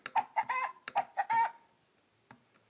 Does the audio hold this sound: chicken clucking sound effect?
yes